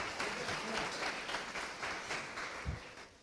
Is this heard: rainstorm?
no